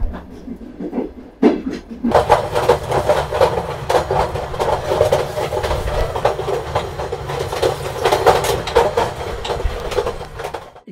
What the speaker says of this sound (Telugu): ఈ ట్రైన్ కూడా జమ్మని వెళ్ళిపోతుంది.